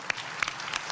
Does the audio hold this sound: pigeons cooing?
no